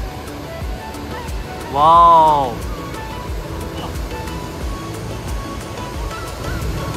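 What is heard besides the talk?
Pykara waterfall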